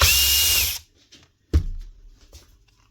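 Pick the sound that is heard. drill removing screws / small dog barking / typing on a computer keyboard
drill removing screws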